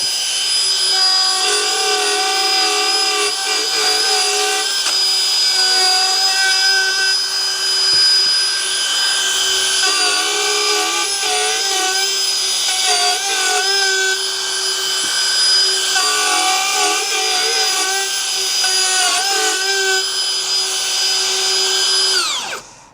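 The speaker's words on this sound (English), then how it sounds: "We've already changed our router bit to our standard kitchen bit, and then we're going to start cutting." Plunge router with a standard kitchen bit cutting into a kitchen worktop, a loud continuous high-pitched whine that holds steady for over twenty seconds with slight pitch dips as the cutter loads, then cuts off at the end.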